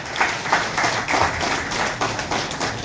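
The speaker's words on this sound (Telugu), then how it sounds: "వారికి ఒక్కసారి హృదయపూర్వకంగా చప్పట్లు కొట్టండి" An audience claps for a temple laddu lottery winner, a light, uneven patter of hands swelling in loose bursts, moderately close and with no talk.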